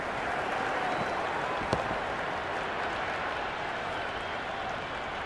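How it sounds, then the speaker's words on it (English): Video game cricket crowd in Cricket 26 during a Pakistan vs Australia T20I match, a steady dense roar of cheering and applause with one brief sharp crack partway through, no speech. "It's evident and ever so audible that the crowd is at near bursting point at today's play."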